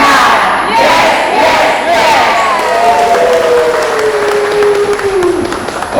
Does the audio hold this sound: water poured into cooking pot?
no